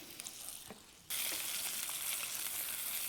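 Pouting fish frying in a pan outdoors, a quiet sizzle that jumps abruptly into a loud, hissing fry, with a few faint clicks and taps.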